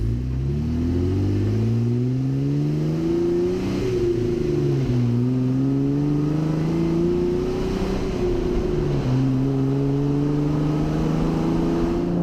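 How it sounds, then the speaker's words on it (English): Jeep engine fitted with a cold air intake pulling at wide open throttle, a steady loud drone climbing in pitch through several gear shifts, with a dip and recovery at each shift and road noise underneath. "I'm noticing just at that little bit of wide open throttle, I do hear a little bit of more noise from the intake"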